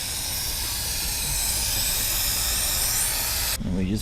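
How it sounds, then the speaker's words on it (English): Aerosol can of 3M high strength fabric adhesive sprays in a continuous close, loud hiss for several seconds, stopping abruptly near the end as a faint voice comes in. "We're just gonna go ahead and spray a nice even coating."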